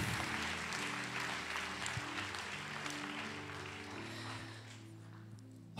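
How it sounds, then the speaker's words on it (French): Church congregation applauding together, a dense sustained wash of clapping filling the room over a low musical hum, steady throughout and tapering slightly near the end. "Est-ce qu'on peut acclamer le Seigneur ensemble?"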